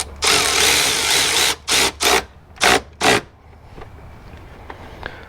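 A Milwaukee M12 Fuel 2557-20 impact driver snugs up 10mm clamp bolts on a Toyota, one longer loud burst followed by four short rapid bursts, then quiet.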